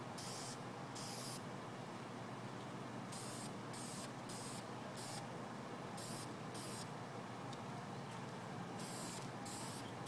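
A spray paint can dusts a sand-cast aluminum rocker arm cover in a steady close hiss, broken by several brief bursts of harsher spray.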